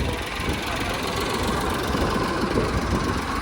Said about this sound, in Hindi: तो गाइस देख सकते हो ये हमारा ट्रैक्टर है